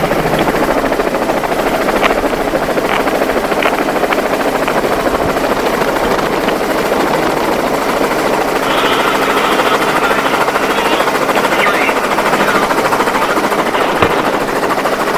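Helicopter hovering on station for a university microgravity drop test: loud, steady, close rotor and engine roar with rapid chopping pulses, continuous for the whole stretch without speech.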